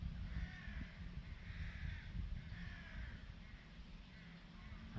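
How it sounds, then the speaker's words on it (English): Crows caw from nearby trees in a slow, repeating series of hoarse calls, about five evenly spaced caws, over a heavy low background rumble with no talking. "You can hear the birds in the background"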